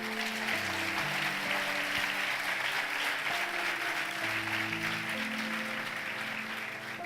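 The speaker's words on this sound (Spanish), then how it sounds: "Dale un aplauso fuerte a Jesús." A church congregation claps loudly and steadily, a dense wash of applause that continues without pause, with faint voices mixed in beneath it.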